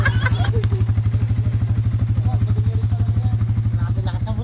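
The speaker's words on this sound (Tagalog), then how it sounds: "Lakas ng motor." Loud motorcycle engine idling close by at an orange farm, a steady rapid thudding pulse that runs throughout.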